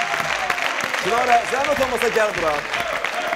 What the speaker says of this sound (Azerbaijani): Çinarə, alqışlar.